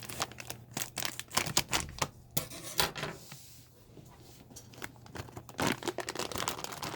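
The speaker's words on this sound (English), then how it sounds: "So we're going to begin by cutting the top of the bag." Scissors snip and crinkle through the plastic top of a mushroom grow bag, a close, quiet run of sharp cuts and rustles with a short lull in the middle, with no talk.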